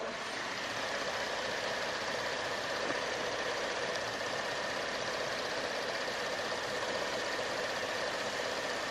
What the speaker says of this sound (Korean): 이 차량 이제 바로 엔진 소리부터 한번 살펴봐 드릴게요